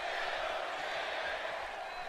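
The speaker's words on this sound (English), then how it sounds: "Crowd into this matchup already. Chanting for Goldust and R-Truth." Dense, steady roar of an arena crowd chanting for Goldust and R-Truth during a WWE 2K18 wrestling video game match, a continuous wash of massed voices with no clear breaks.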